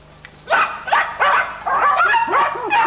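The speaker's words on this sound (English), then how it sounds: "I think we've got the sound of dogs barking." Several dogs barking and yelping close by in a rapid, overlapping chorus, with a faint steady hum underneath.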